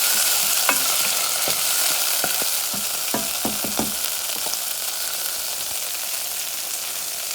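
Squash or pumpkin frying in a pan with a loud, steady sizzle, broken by scattered scraping and clicking stirs, close and with no voices.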